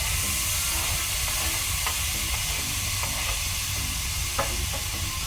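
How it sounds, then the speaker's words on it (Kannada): Tomatoes frying in a pan with onion and ginger-garlic paste for biryani, a constant loud sizzle and hiss with occasional faint stirring scrapes, no voices. "ಟೊಮೆಟೊನ ಸಹ ಒಳ್ಳೆ ರೀತಿ ಫ್ರೈ ಮಾಡುವ"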